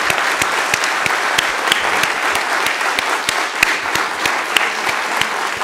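Audience applause in a conference hall following an opening lecture's question session, steady dense clapping with sharper individual claps popping out, sustained for several seconds at an even level.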